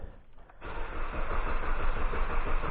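A 2011 Jeep Patriot 2.4L engine with a crank sensor fault cranks without starting, a steady, close, sustained whirring drone that kicks in after a brief quiet moment and continues evenly.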